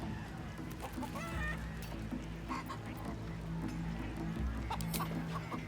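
Chickens cluck repeatedly in the Baldur's Gate 3 video game during a chicken-chasing course, heard over a steady, dense music bed with no speech.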